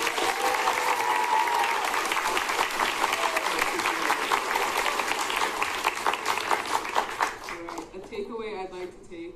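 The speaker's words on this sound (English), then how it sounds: "One more round of applause," Audience at a school district leadership summit gives a round of applause, dense steady clapping that is loud at first and thins out near the end as a voice begins speaking.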